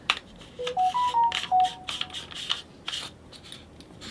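A phone gives off a quick run of short electronic tones in a rising and falling pattern, followed by soft rubbing and tapping handling noises close by.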